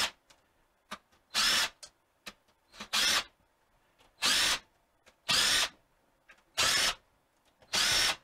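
A power drill whirs in six short bursts, each about half a second, separated by clicks and quiet pauses, while working on a Saginaw transmission.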